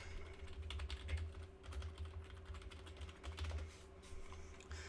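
Quick, irregular clicks of fingers typing on a computer keyboard in bursts, fairly close and soft, with a steady low hum underneath and no talking.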